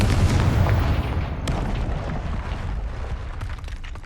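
A Confringo fire spell blasts in Hogwarts Legacy, a loud, heavy boom that opens the clip and then rumbles and crackles away as a long, dense tail.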